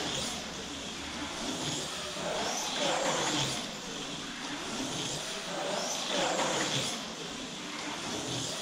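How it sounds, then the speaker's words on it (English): A race car on a track during driver training gets a light throttle out of a turn onto the straightaway, its engine swelling and easing twice, muffled and fairly quiet. "I'm just goosing it just a little bit out of this turn right here to get it down that straightaway"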